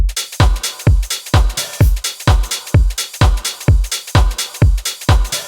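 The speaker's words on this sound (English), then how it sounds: "I'm using both live and digital hats, rides, and shakers as well. And together the drums sound like this." Stutter house drum loop layering live and digital hi-hats, rides and shakers over punchy kicks, a steady driving groove of evenly spaced hits with bright, busy top-end percussion, loud and up front with no voices.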